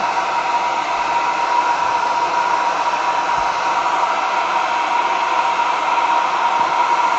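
A hair dryer blows steadily and loudly nearby, a constant whooshing roar with no breaks and no voices.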